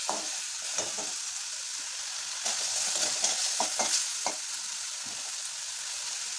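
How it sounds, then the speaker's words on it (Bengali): Spice paste sautéing in a pan for a long bean and prawn curry, a continuous sizzle broken by several scraping stirs of a spatula, close and without speech. "এবার এই মশলাটাকে ভালো করে কষিয়ে নিই।"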